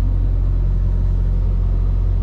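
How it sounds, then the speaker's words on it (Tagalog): A truck's diesel engine idles steadily nearby, a constant low rumble and hum with no change in pace, no voices over it. "Kita natin ang makina ng truck natin."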